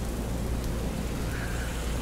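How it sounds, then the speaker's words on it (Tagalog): Heavy rain pours down with wind blowing in through a window, a dense, steady roar of rainfall with a low rumbling undertone and no let-up. "Bumugso ang buhos ng ulan at ihip ng hangin papasok ng bintana."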